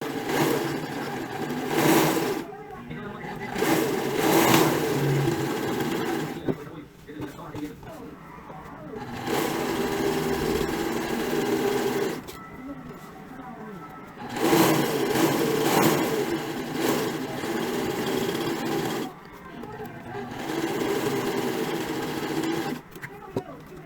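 Zigzag stitches run on a sewing machine through the pieces of a 70s-style jumpsuit, one centimetre from the edge. The motor whirs in several separate bursts of a couple of seconds each, with quieter gaps between them.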